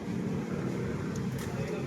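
A Kawasaki NS160 FI motorcycle with a weak, low-power engine runs steadily, a dense low rumble throughout with wind-like noise on top.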